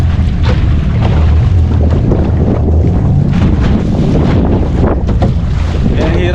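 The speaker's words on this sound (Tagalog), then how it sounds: "Papahila natin sa bangka." A fishing boat at sea, out slow pitch jigging in a strong current, pulls on a snagged line. Its engine rumbles loud and steady under heavy wind buffeting and splashing water.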